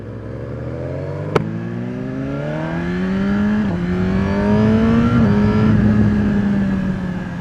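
A Suzuki GSX-R1000R sport motorcycle is opened up near the mic, its engine note climbing in pitch through a sharp clack and a rising rev, then holding a loud, steady high whine.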